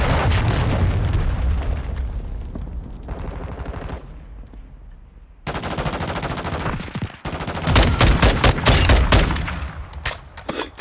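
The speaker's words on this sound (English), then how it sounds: "Friendly cruise missile approaching target." Gunfire and heavy explosions from a cruise missile strike in Call of Duty: Modern Warfare II, with loud repeated bursts and blasts that grow denser toward the end, alone without talk.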